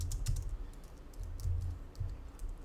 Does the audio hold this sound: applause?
no